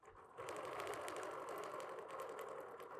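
A BERNINA sewing machine stitching a quilt starts up after a brief pause and runs steadily with a fast, even whirring hum and rapid needle clatter, close and continuous.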